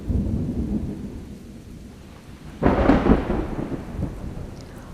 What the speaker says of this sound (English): Oh, here comes some precipitation now.